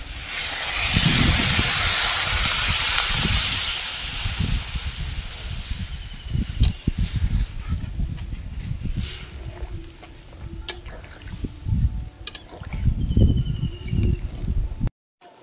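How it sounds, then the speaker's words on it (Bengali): Water is poured into a pan of sautéed potatoes for a fish curry and left to simmer, giving a loud, steady steaming hiss with bubbling that eases and surges throughout, no voices. "আলু ভালো করে কষিয়ে নিয়েছি, এবার জল ঢেলে দেবো।"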